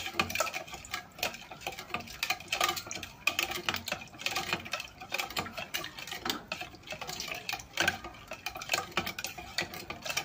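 Chicken adobo with liver and gizzards stirred in a pot, quiet continuous scraping and clinking of a utensil against the metal, faint and close with an irregular rhythm.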